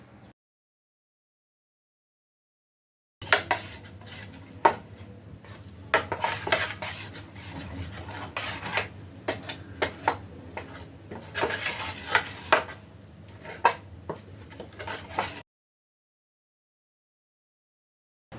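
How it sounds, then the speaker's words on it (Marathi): Cumin and salt being stirred into rice dosa batter in a bowl, a spoon scraping and clinking steadily against the sides for about twelve seconds, close and fairly loud, with no voices. "यात आपण अर्धा चमचा जिरं टाकायचं आहे आणि चवीपुरतं मीठ टाकून आपण हे मिश्रण व्यवस्थित ढवळायचं आहे"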